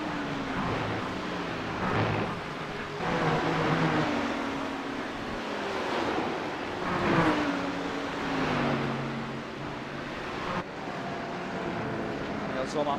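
Formula 1 cars, including a Ferrari and a Mercedes, race in a W12 Sprint Series video game, engines whining and rising and falling in pitch as they pass, with continuous commentary over them.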